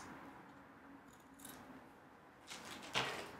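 A couple of quiet snips from scissors trimming fabric, close by, with a sharper clip near the end and no talking.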